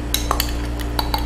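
A spoon stirring coconut oil and cacao husk flour in a glass dish, giving light repeated clinks and taps against the sides over a steady hum.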